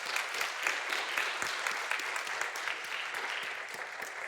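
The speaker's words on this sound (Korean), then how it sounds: "우리 감사와 또 하나님께 영광을 돌리는 박수 한번 드리겠습니다" Congregation applauding in a church after an orchestra and choir anniversary performance, a moderately distant, even wash of many hands clapping that carries on without a break.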